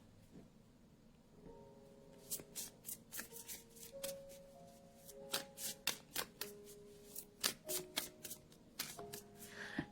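A deck of oracle cards being shuffled by hand, with repeated crisp riffles and slaps in quick, uneven bursts, close and fairly quiet, with a faint hum of soft background tones.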